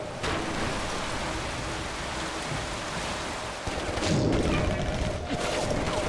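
Rain effect in the video game Stranglehold, set in Hong Kong: a continuous hiss of rainfall with a faint tonal hum, growing heavier and louder toward the end, with no voices.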